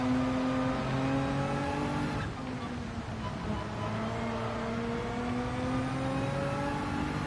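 Race car engines in Gran Turismo 7 during a World Manufacturer Cup qualifying race whine and rev in steady, rising tones, with a brief dip in pitch partway through, while commentary carries on over them.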